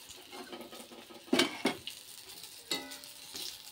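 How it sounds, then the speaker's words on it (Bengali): Spiced teasel gourd filling with rice paste and turmeric fries in an iron wok, with a soft sizzle under sharp spatula clanks and scrapes in a few close bursts. "এই লোহার কড়াইটার মধ্যে ভাজছি"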